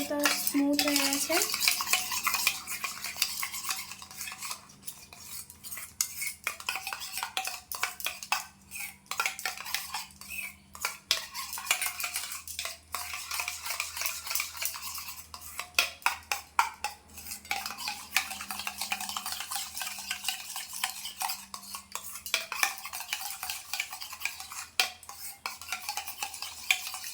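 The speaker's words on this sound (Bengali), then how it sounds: "দইটা ফেটানো হয়ে গেছে" Curd whisked with ripe mango in a bowl for a sweet-and-sour yogurt dish: a steady run of spoon or whisk clinks and scrapes against the bowl, close and fairly quiet, with no voices.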